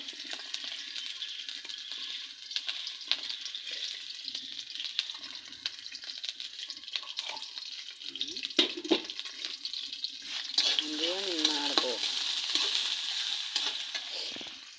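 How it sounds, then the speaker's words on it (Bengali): Onions frying in hot oil on a stove while cooking a winter vegetable dish of bottle gourd and egg curry, a steady close sizzle that grows louder and denser toward the end, with scattered clinks and stirring noises. "এখন আমি পেঁয়াজ দিয়ে দেবো তেলের ভিতরে"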